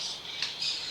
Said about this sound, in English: Please excuse my birds.